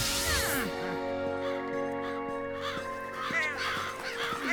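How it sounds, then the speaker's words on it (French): Cartoon crows caw in a flock, several harsh rasping calls overlapping in bursts over a sustained musical score, fairly loud and close. "J'aime pas trop tous ces oiseaux"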